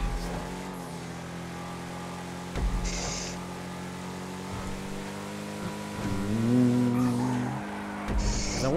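Schyster Deviant muscle car in GTA Online driving with a steady engine drone, revving harder near the end with short tire squeals as it struggles for traction through corners, no talking over it.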